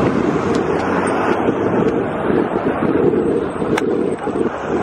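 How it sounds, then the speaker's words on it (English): Steady wind buffets the microphone on a road bike ride into a headwind, a loud continuous rushing roar with low rumbling gusts throughout. "Wind, loving it. Headwind's beautiful."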